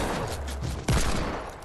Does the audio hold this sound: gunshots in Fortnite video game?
yes